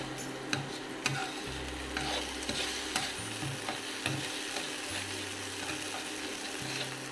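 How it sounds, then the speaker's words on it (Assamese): Semolina being stirred with vegetables in a frying pan for upma, a spoon scraping and knocking the pan in repeated strokes over a steady close sizzle of frying, with no talk. "এতিয়া ভালদৰে চুজিখিনি দি অকণমান লৰাই দিম।"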